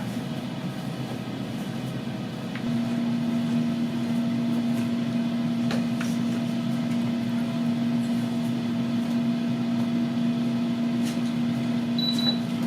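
A Gourmia all-in-one air fryer running at 350 degrees while cooking shrimp gives a steady, loud fan hum with a constant tonal whine that rises partway in and holds, with a few faint clicks and a brief beep near the end.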